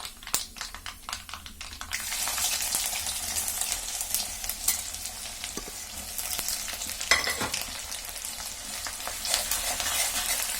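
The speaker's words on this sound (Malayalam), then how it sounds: "ഇതിലേക്ക് ഇനി നമുക്ക് ഇഞ്ചി, വെളുത്തുള്ളി, പച്ചമുളക് ഇതെല്ലാം കൂടി ഇട്ട് കൊടുക്കാം." Ginger, garlic and green chili hit hot coconut oil with mustard seeds for papaya pickle: a few sharp clicks, then a loud, continuous close sizzle with scraping stirs throughout.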